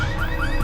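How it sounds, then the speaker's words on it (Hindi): A green Volkswagen's car alarm wails nearby, with a loud, continuous tone rising in pitch over a low background rumble. "वो गाड़ी का अलार्म बज रहा है।"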